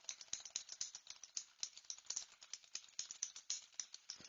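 Rapid, irregular clicking of keys typed on a keyboard, close and fairly quiet, continuing steadily without pauses or speech.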